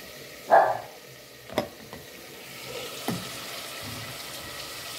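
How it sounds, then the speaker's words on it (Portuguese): A tilapia fillet frying in a pan gives a soft, steady sizzle, broken by a few brief sharp pops and crackles, heard close and alone without voices. "Tilápia tá fritando"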